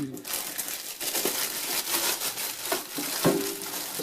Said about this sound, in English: Tear it open.